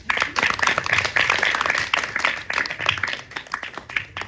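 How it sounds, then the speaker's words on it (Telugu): A congregation at a semi-Christmas church gathering claps together in a sustained, fairly loud round of applause that swells and ebbs slightly. "అందరూ చప్పట్లు కొట్టండి"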